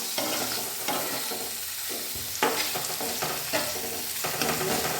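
Paneer pieces fry lightly in a pan, giving a continuous close sizzle broken by repeated scraping stir strokes and soft knocks of the utensil.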